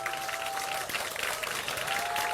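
Moderately distant crowd applause at a political talk concert in Chungbuk for candidate Jung Chung-rae, a continuous wash of clapping with a faint steady hum underneath.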